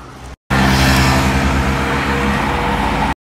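A car being driven along, a loud steady engine and road rumble from inside the cabin, continuous after a brief cut near the start, no talking.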